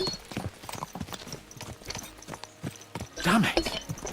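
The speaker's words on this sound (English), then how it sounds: "Let's really spur these horses on, eh?" Horses' hooves clip-clop in a quick, steady rhythm in Kingdom Come: Deliverance 2, close and fairly loud, with a brief voice or snort rising near the end.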